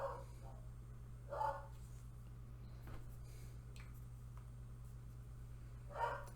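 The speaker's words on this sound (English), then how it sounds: "So in the background, you can probably hear my dog barking." A dog barks a few times in the distance indoors, spaced apart, over a steady electrical hum and faint room noise.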